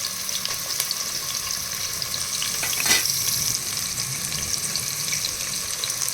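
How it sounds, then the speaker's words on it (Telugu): Onions fry in hot oil for a mutton masala, a continuous close sizzle with a scrape of stirring near the middle and no speech. "బాగా వేగాలి బ్రౌన్ కలర్లో రావాలండి ఆనియన్స్ అన్నీ"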